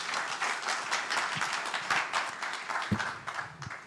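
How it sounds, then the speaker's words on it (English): An audience at a tribute event claps in a round of applause. The clapping is dense and moderately loud, with a few low thumps mixed in. "we can give George a round of applause as well"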